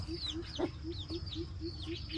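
Chickens cluck and call repeatedly in a wet garden coop during days of steady rain, with a regular chirping pattern and a soft wash of background noise under the birds.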